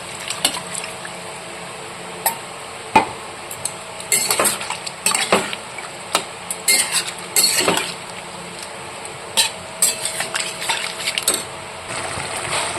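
Paneer goes into frying masala in a pot and gets stirred, producing a soft sizzle under repeated sharp clinks and scrapes of a spoon against the pan. The clatter comes in irregular bursts, close and fairly loud.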